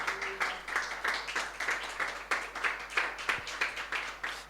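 A church congregation at a Sunday service claps together in rapid, steady rhythmic applause, dense and fairly close, without talk over it.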